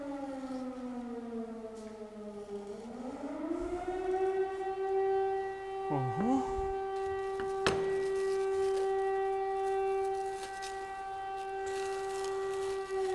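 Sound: air raid sirens

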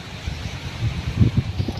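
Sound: strong wind

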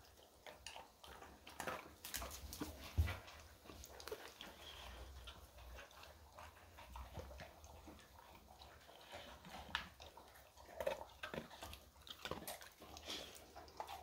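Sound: puppy eating crunchy food

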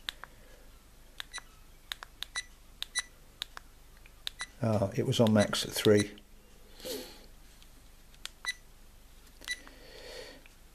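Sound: AKASO EK7000 action camera beep sounds

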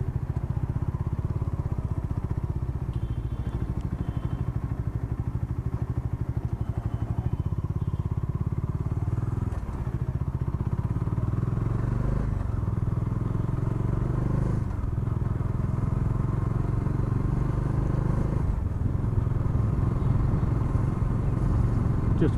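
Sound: Bajaj Dominar 400 BS6 motorcycle riding

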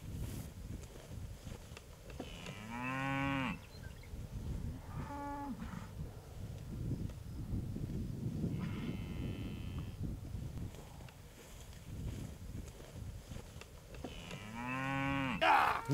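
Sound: cows mooing

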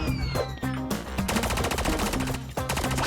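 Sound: gunfire in the video game Call of Duty Mobile

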